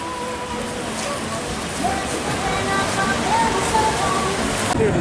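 Water rushes along the River Rampage rapids ride at Dollywood, a constant splashing roar heard nearby in the park, with voices talking over it.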